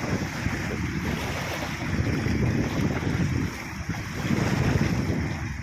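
Water rushes and churns steadily against a fishing boat at sea, with heavy wind buffeting the microphone throughout.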